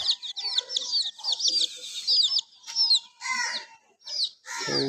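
Desi hens and their chicks on a poultry farm, with high, rapid chick peeping running throughout and lower hen clucks mixed in, close and continuous with no talking.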